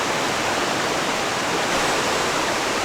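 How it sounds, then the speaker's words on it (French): A river rushing through a gorge below a hiking path in summer, giving a steady, broadband wash of flowing water with no pauses, fairly loud and continuous and heard alone. "On est maintenant au plus près de la rivière, on longe la gorge."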